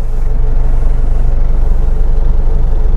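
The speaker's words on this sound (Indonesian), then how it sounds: "suara dieselnya masih garing" A Kia Pregio diesel minibus idles with a steady, loud low rumble, its even engine drone holding unchanged throughout with no voices over it.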